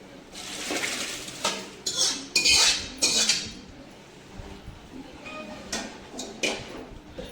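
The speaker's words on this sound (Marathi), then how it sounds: "आता आपण मिसळ परतून घ्यायची. उसळ जी आपण वाफवून घेतली ती." A spoon stirs and scrapes steamed misal usal in oiled pan, giving repeated clinks and metallic scrapes with a sizzling hiss underneath, loud and close.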